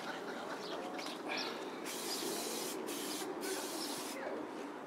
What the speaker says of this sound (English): So, just spray some discs.